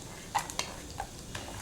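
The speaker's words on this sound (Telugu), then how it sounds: "కడాయి పెట్టుకుని కొద్దిగా ఆయిల్ వేసుకుని ఆవాలు, జీలకర్ర, మినపప్పు, పచ్చిశనగపప్పు, అలాగే 2 స్పూన్లు పల్లీలు వేసుకుంటున్నాను నేను." Mustard seeds, cumin, urad dal, chana dal and peanuts frying in oil in a kadai for idli chutney, heard as a quiet sizzle with a few sharp pops and light stirring scrapes.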